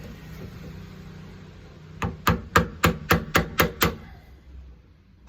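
A chisel is struck in eight quick, evenly spaced hammer blows, removing a bit of wood for a Kwikset deadbolt install, each strike close and sharp after a quiet start.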